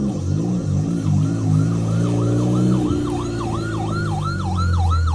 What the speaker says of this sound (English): So this is his first ambulance.